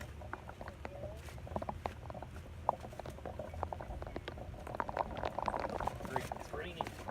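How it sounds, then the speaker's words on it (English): Steady rain patters outdoors in Hawaii with sharp drop ticks scattered over a constant wash of sound, moderately close and continuous throughout. "It's raining."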